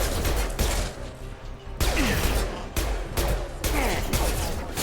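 Gunfire in the video game Mass Effect, rapid bursts of shots in several clusters separated by brief pauses, loud and close, with other battle noise between the volleys.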